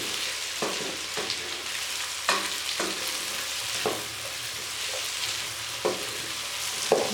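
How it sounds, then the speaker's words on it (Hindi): Vegetables with ginger-garlic paste frying for beef biryani crackle and sizzle steadily in a pan, with repeated sharp clicks from stirring, close and alone. "अब हम इसको भून लेंगे।"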